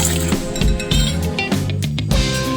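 A spoon clinks repeatedly against a bowl while spiced chicken marinade is mixed by hand, giving bright, close, irregular metallic taps over the stirring.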